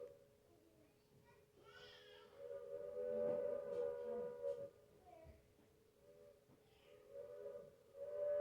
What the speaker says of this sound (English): comes to a stop here at Carpenter's Crossing and blows her whistle